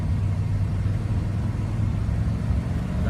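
A 15-year-old one-ton work truck driving on worn tires, a steady low engine and road rumble heard from inside the cab, constant and fairly loud with no talking.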